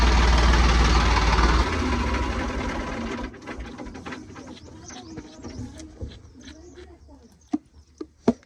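A Massey tractor engine idles with a rapid mechanical chatter, loud and close for the first few seconds, then quieter with scattered clicks and knocks. Voices can be heard faintly in the background.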